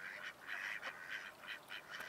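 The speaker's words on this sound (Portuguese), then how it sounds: "Olha os patos com medo dele." Ducks on a pond make a run of rhythmic honking quacks, several short calls close together and fairly loud, with no talking over them.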